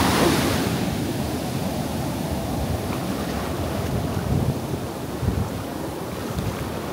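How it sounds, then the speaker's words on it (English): Ocean waves break steadily on Varkala beach in Kerala, a loud continuous wash of surf close by, with heavy wind rumbling across the microphone and no voices. "So get pretty close, get hit by waves pretty quick."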